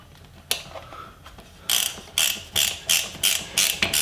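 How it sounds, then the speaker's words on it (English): Ratchet wrench working on the rear set of a Honda Grom motorcycle, a close series of sharp clicking bursts in a steady rhythm after a few isolated clicks. "I got the ratchet stuck"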